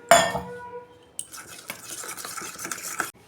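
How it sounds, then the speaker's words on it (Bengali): Ground cumin, coriander and chili powder are stirred with a little water in a small bowl for a hilsa fish dish; a sharp clink opens, then soft scraping and tapping strokes continue close by. "অল্প জল দিয়ে আমি মশলাটা গুলে রাখবো।"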